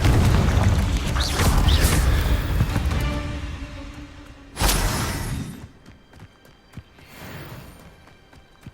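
A booming Confringo fire spell explosion from Hogwarts Legacy, a loud rumbling blast followed by a sharp crashing burst midway, then trailing debris clatter and a fainter second whoosh near the end.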